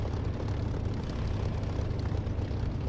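Propeller aircraft engine throttling up for takeoff in the DCS flight simulator, a loud, dense, continuous low roar that holds steady throughout with no voices.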